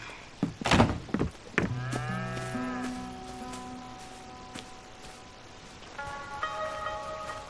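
Cattle moo on a farm in Red Dead Redemption 2. A few thumps come first, then several long, drawn-out moos rise close and clear, followed by a fainter, higher moo near the end.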